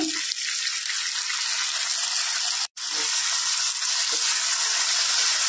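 Onion and potato sizzle in a hot pan, a steady hissing fry that runs loud and unbroken, with one abrupt momentary cutout midway.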